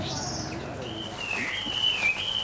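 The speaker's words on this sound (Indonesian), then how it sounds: "Ada kenari, itu ada anis merah, macam-macam" A few clear whistled calls from canaries and orange-headed thrushes, rising and sliding tones, sound close by over a low background hum.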